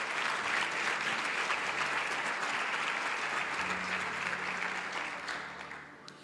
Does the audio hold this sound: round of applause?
yes